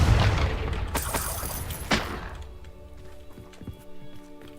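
A booming fiery blast from the Confringo explosion spell in a video game, a loud rumbling burst at the start with a second crack about two seconds in, then fading into quieter game sounds and faint chatter.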